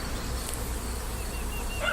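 A small honeybee swarm buzzes steadily in a summer apple tree in a garden, a continuous close insect drone with no voices.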